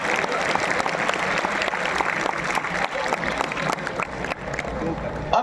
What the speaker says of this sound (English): Give a huge round of applause for this performance.